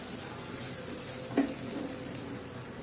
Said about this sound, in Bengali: মশলাগুলো দিয়েছি সেটাও এর সাথে খুব সুন্দর করে ফ্রাই হয়ে